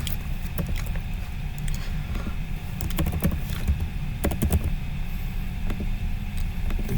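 Typing on a computer keyboard while entering new customer data into a banking program: scattered, irregular keystroke clicks over a steady low hum, with no speech.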